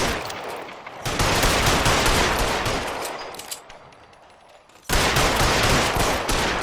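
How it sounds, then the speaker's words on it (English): Sustained video-game gunfire in L.A. Noire, a dense, loud burst of rapid shots that eases and dips near the middle before a fresh heavy volley breaks out again. "Well, no choice but to shoot him down."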